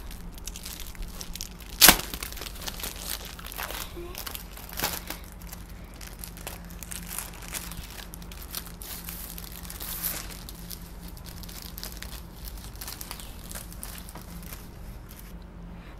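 Plastic wrapping on an Olympiad question paper kit for Class 3 and 4 is opened by hand, with a sharp tear near the start followed by scattered crinkles and rustles, fairly quiet, without talk.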